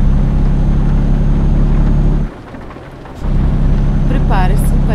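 Rain and rolling thunder in the Norway driving game Euro Truck Simulator 2 form a loud, continuous wash over a heavy truck's low engine drone, briefly dipping quieter midway before surging back.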